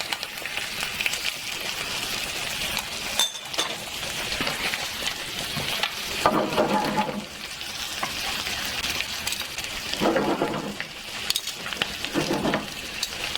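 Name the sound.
butter sizzling with lamb meat in pan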